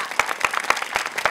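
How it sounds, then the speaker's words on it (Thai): A studio audience and crew clap on a television comedy show, a short burst of brisk, fairly loud applause with distinct rhythmic claps. "ทีมงานปรบมือสักนิดนึงครับ"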